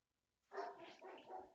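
A pet dog barks indoors in one short, moderately loud burst of a couple of quick yaps after a moment of quiet.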